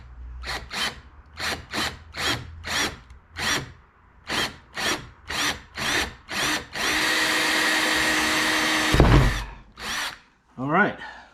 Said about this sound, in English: It's always interesting drilling into your yak.